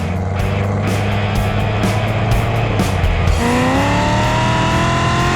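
A Hennessey Camaro ZL1 engine roars loud and close, holding a deep drone before revving up in a rising sweep near the end.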